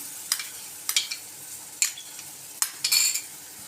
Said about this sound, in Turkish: Şöyle salçalarımızı da kavuracağız.